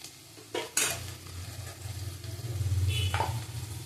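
Amudi fish with turmeric and Kashmiri chili powder is stir-fried in a pan, a spatula clanking and scraping twice before a rising sizzle settles in under continued stirring.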